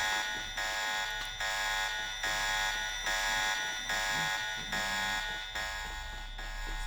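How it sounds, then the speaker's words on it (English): Alarms blare in the Deus Ex video game, a loud buzzing, pulsing tone that repeats about once a second without stopping, with nothing else heard. "Sorry about the annoying alarms."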